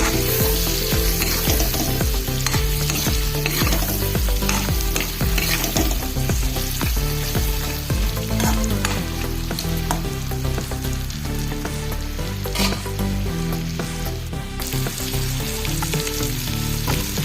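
Pork with onion, garlic and ginger frying in a pan, a loud dense sizzle running unbroken throughout, with stirring scrapes mixed in and no talk.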